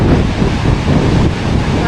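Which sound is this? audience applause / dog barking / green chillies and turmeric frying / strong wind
strong wind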